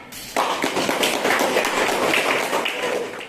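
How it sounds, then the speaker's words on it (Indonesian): A classroom of students claps for a group's answer during a lesson, many hands joining in a sudden, loud burst of applause that holds steady and thick, then tapers slightly toward the end. "Oke, tepuk tangan."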